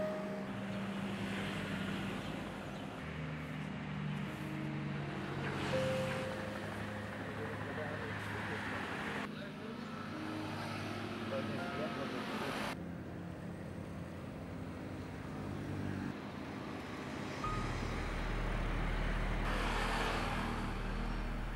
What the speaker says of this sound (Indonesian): Deru mesin kendaraan semakin bergema di sepanjang jalanan